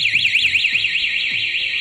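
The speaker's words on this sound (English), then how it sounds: "I'll now give it a little more force and see if we can trigger the main alarm" An Encore M1 motorcycle security alarm wails loudly up close, a rapid warbling electronic siren that rises and falls in a steady repeating cycle.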